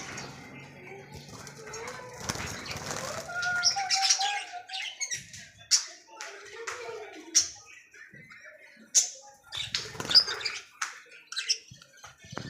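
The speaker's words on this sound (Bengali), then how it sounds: "সকালে পাখির কিচির মিচির, এখন ঘুম শোনা যায়, ঘুম ভাঙে।" Birds chirp and tweet in the morning in short, scattered calls, some sharp and near, over quiet background with faint cooing and occasional soft speech.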